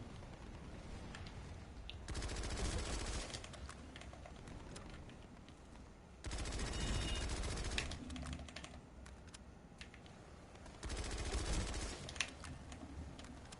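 Orion light machine gun from Planetside 2, loaded with soft point ammo, fires in three sustained automatic bursts separated by quieter gaps, each burst dense and loud.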